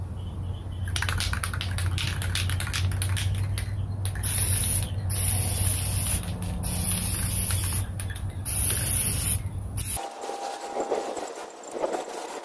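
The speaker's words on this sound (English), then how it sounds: "This is our Rust-Oleum frosted glass spray paint." Steady hissing bursts of Rust-Oleum frosted glass spray paint in repeated pulses over a low hum, with short pauses between sprays.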